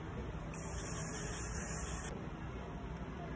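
A steady hiss of aerosol makeup setting spray lasts about a second and a half, close and fairly loud over a low background murmur.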